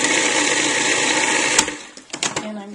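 A food processor whirs loudly as it chops pine nuts for vegan pesto, running steadily for about a second and a half before stopping, followed by a few light clatters and a faint hum.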